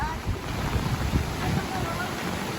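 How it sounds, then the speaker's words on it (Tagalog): A river's strong current roars steadily with a broad wash of noise during Typhoon Carina, mixed with wind buffeting the microphone, and no voices. "Ayan, malakas na rin po yung agos ng ilog."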